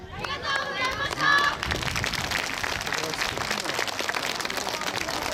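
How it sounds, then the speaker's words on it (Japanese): Audience applause at a yosakoi dance festival, many hands clapping steadily in a crowd, with a voice and some music briefly at the start. "拍手をいただいた会場の皆様に礼。"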